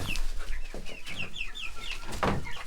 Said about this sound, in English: all the laying hens come over here.